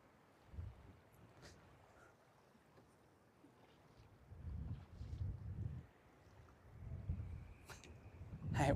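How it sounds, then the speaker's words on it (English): Gusty wind buffets the microphone beside a river spillway during catfishing, with low rumbling surges that rise and fall in several waves and strengthen toward the end. "That wind is something."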